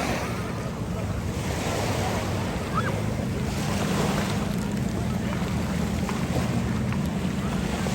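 Sea waves at a beach in northern Morocco make a steady, wide wash of surf with wind rumbling against the microphone, continuous and moderately faint throughout.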